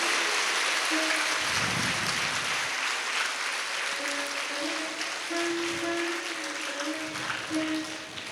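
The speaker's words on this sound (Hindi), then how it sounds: "एक बार सब एक दूसरे के लिए तालियों की गड़गड़ाहट कर रहे हैं।" Applause from a gathered congregation at a spiritual satsang near the Triveni Sangam in Prayagraj, a steady wash of distant clapping that continues throughout at low level, with intermittent tonal voices over it.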